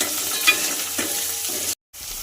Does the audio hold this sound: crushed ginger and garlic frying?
yes